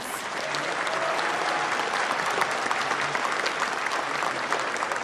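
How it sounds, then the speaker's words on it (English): A convention hall audience at TennoCon 2018, a Warframe fan event, breaks into sustained, full applause for a sound design panel, dense even clapping from a large crowd holding steady throughout. "Can we give the biggest round of applause to our sound panelists?"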